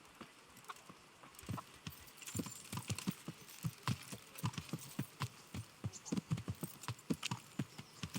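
Horse hooves clip-clop at a steady walking rhythm in Kingdom Come: Deliverance, a medieval video game, the hoofbeats crisp and fairly close over a quiet ambient background with no talk.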